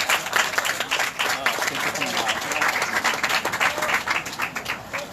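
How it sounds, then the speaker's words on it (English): An audience in a studio applauds for a guest, sustained dense clapping from a crowd with a few voices and brief talk mixed in, steady and moderately loud throughout. "Let's give Rachel a round of applause"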